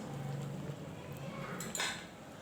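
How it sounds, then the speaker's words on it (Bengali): Silver carp fish curry (kalia) being stirred in a pan, a low steady simmering bed with a few soft scraping clinks of a spoon against the metal, one brief brighter scrape near the end. "এবার তরকারিটা একটু নাড়াচাড়া করে আমি নামিয়ে নেব"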